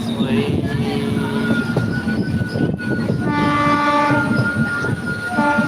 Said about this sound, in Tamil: ட்ரெயின் எப்படி திரும்பிட்டு போது பாருங்க.